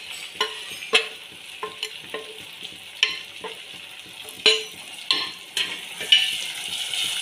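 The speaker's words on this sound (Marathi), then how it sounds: "हे छान तेलामध्ये मसाले एक 20-30 सेकंद फक्त परतून घ्यायचे आपल्याला" Spice powders (red chilli, turmeric, coriander, cumin, Kashmiri chilli and garam masala) are fried briefly in hot oil for a potato curry, with a low steady sizzle and repeated close scrapes and taps of a spoon against the pan.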